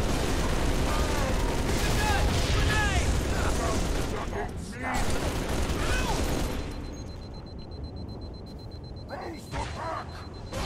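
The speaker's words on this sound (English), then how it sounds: "throw a grenade up in there" Gunfire and explosions in the Halo 3 video game, a dense, loud barrage of shots and booming blasts for several seconds, then thinning to scattered bursts, with players talking over the din.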